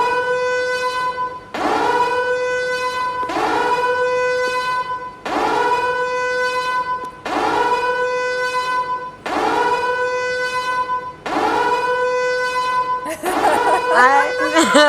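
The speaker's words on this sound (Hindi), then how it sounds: "बजाएं सायरन यार," A siren played on a reality show set, sounding as six loud repeated tonal blasts of about a second and a half each, separated by short gaps, before a different warbling tone starts.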